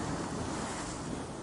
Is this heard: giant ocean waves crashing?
yes